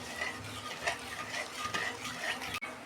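Jaggery syrup stirred and cooked in a pan with a little water, a spoon scraping and swirling through the bubbling mixture in steady strokes, close and clear with a soft sizzle underneath.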